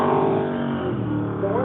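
A Camaro race car drives past on a track, its engine a steady loud roar that holds through the clip, with a commentator's voice running over it.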